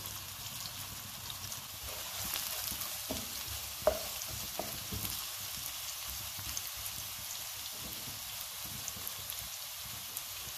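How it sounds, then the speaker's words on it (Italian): Onion softening in olive oil in a pan for a Mediterranean pasta, giving a steady, moderate sizzle with light stirring scrapes and one sharper knock near the four-second mark. "aggiungo la cipolla. Lascio appassire la cipolla per un minuto."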